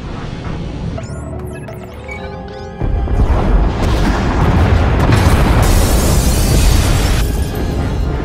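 Pod bays are destroyed in Star Wars: The Old Republic, Knights of the Fallen Empire. Clinks and metallic rattles lead into a loud, close boom that rolls on as a long, heavy rumble of blast and debris.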